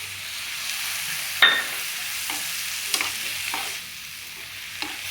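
Lobia and potato masala sizzling steadily in a pan as Kashmiri chili goes in, a constant hiss of frying broken by a few spoon scrapes while stirring.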